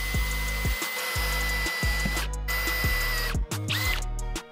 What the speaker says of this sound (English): Then we'll put our center drill in the drill.